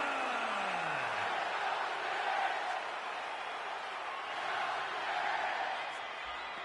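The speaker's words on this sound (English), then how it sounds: "The crowd going crazy" Crowd noise from a WWE 2K26 wrestling arena as Randy Orton enters, a steady, fairly distant roar of fans with a sliding tone at the start, no clear separate cheers.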